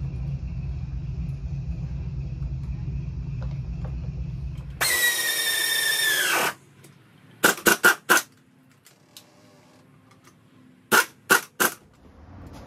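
A power tool whirs for a couple of seconds, followed by several short, sharp bursts of a pneumatic impact wrench tightening ATV rims, spaced apart with quiet gaps between.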